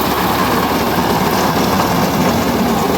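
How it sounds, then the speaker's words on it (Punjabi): A small, old-model second-hand Massey tractor engine runs steadily and close by during wheat harvesting in Punjab, with a loud continuous rumble and no pauses. "ਛੋਟਾ ਮੈਸੀ ਟਰੈਕਟਰ ਆ ਪੁਰਾਣਾ ਮਾਡਲ"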